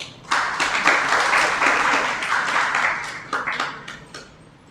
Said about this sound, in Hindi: ताली क्यों बजाई आपने?